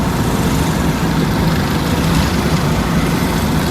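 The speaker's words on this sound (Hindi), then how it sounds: "ये देखिए कैसे बाइक वाले यहाँ से गुजर रहे हैं।" Motorcycle engines roar steadily and loudly on a mountain shortcut road toward Mussoorie, a dense continuous drone with no clear gaps between passing bikes.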